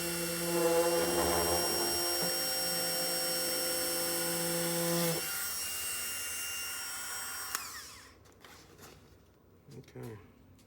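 A Dremel rotary tool fitted with a finer bit, used during a 2018+ Honda Goldwing cubby cooler fan install, whines steadily and close for about five seconds, then shifts to a lower, rougher grinding before fading to faint handling noises.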